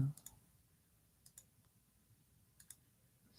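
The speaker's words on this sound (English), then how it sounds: "I end up having to use the physical keyboard on the laptop rather than the Bluetooth keyboard" Keys pressed on a laptop's built-in physical keyboard, a few quiet clicks in small clusters spread across a low background hum, no talking.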